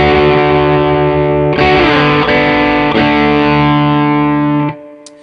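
An electric guitar played through an Xotic booster pedal set to distortion rings out in thick, compressed sustained chords, changing a few times before the sound is cut off abruptly near the end.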